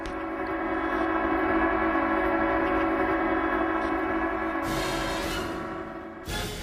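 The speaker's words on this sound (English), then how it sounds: "The train of leader Kim Jong-il did not stop" A train runs with a loud, continuous rumble and drone, carrying steady tonal hum throughout and abrupt shifts near the end as the sound changes.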